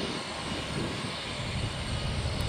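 A JetBlue Airbus A320 in special vacation livery at Tampa International Airport gives a steady, loud broadband jet engine roar with low rumble, continuous throughout and heard up close without voices.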